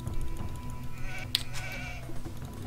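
Sheep bleat inside an Age of Empires II HD match on the Arabia map, a short game-style call over a busy, steady bed of in-game ambience with a brief sharp click partway through.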